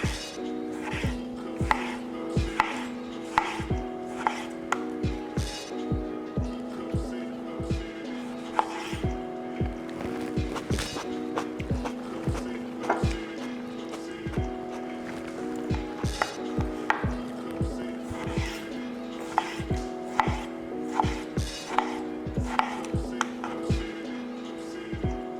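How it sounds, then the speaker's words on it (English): A knife slicing down through large halved vegetables on a cutting board at a market chef demonstration, steady repeated thuds against the board with faint clinks of utensils, close and continuous with no talk. "I like to cut them in half. And then I just slice down."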